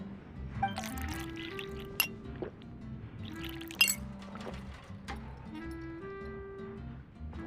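Juice trickles into a glass in a video game, a quiet pour with light clinks of glass over a soft, steady musical background, with no talking.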